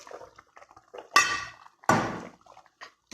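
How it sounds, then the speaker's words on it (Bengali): Pangasius fish pieces drop into a cooking pot of cucumber, potato and tomato curry, making two sharp, resonant metallic clanks with quieter clinks and stirring around them. "এরপর আমরা এখানে মাছগুলো দিয়ে দিব"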